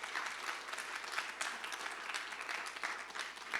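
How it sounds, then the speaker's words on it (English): Applause from a conference audience thanking a panel, steady broadband clapping from many hands throughout, fairly distant and moderate in level, with no voices over it. "Can we give them a round of applause?"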